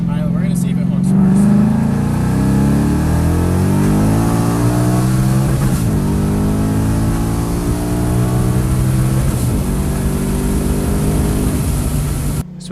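A supercharged Ford Mustang GT accelerates hard under manual shifting, its engine note climbing loudly through repeated rises in pitch with brief breaks at each gear change, close and continuous.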